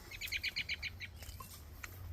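Birds chirp and tweet in quick bright bursts beside a ripening cherry tree on a flower and vegetable farm in June, a cluster of calls up close at first, then scattered fainter chirps over low outdoor background noise.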